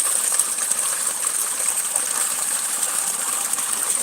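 Water runs continuously at a spot in a swampy area where villagers fetch their water, a loud, even rushing hiss with no pauses and no talking.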